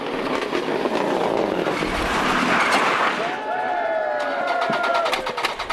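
A Toyota Corolla rally car drives a Donegal Rally stage, its engine rising and falling beneath spectator noise and a rushing pass, with speech over the top.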